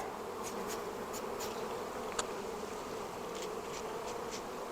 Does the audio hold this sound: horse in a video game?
no